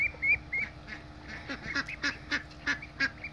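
A flock of ducks with six ducklings quacks up close in a steady run of short, rhythmic calls, with a few higher peeps near the start.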